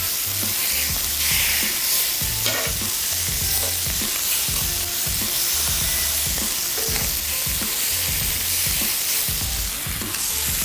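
Lamb cutlets frying in a hot pan, a loud continuous sizzle and spatter filling the whole stretch with intermittent low thumps as the meat is pressed down; no talking.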